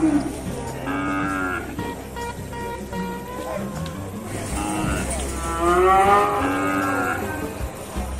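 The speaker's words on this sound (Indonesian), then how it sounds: "Seperti sekarang kita sedang berada di tempat sapi-sapi Aceh" Several cattle moo loudly and repeatedly at a livestock market in Sibreh, Aceh, long drawn-out lowing calls overlapping amid a busy outdoor background with distant voices and an occasional car horn.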